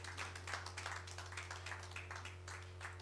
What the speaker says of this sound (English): A round of applause again for him